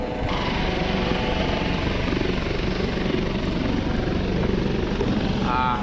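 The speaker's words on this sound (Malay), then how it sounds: "Ini unit udara helikopter ni yang berpangkalan di lapangan terbang Sultan Abdul Aziz Shah di Subang Airport." A police air unit helicopter hovering during winch rescue training at Subang Airport, a loud, steady rotor chop and engine roar that fills the whole stretch.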